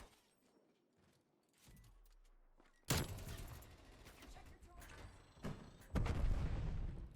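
AK47 gunfire in Call of Duty Cold War multiplayer, loud rattling bursts of automatic fire with sharp cracks and a low boom, close, following a quieter stretch of game ambience and movement.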